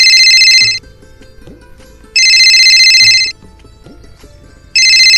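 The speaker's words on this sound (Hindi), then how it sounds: "एक मिनट बाद फोन आ गए।" A telephone rings in a family drama scene, its bright electronic trill coming in three loud bursts separated by quiet gaps, with faint low background sounds between them.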